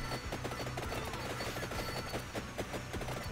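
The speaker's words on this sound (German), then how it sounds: "Ah, diese Schüsse, die können mich mal." Rapid rattling gunfire in the video game Vampire Survivors, bursts of shots repeating densely over a constant noisy background.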